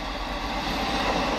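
An Arriva Trains Wales Class 158 diesel multiple unit, two sets coupled together, comes around a curve near Smethwick Galton Bridge with a steady, loud rumble and rolling rail noise. No voices are heard.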